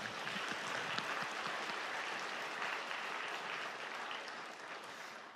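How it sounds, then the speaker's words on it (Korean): A church congregation at a Sunday afternoon service in Daegu, Korea, gives a big round of applause in a reverberant sanctuary, a steady dense clapping that carries on for about five seconds and gradually softens. "우리 큰 박수로 하나님께 영광 돌리겠습니다."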